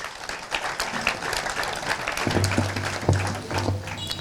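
Audience applause at the inauguration of a maternity hospital in Ziguinchor, Senegal, a dense patter of many hands clapping steadily throughout, with some faint voices underneath.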